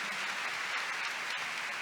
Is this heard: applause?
yes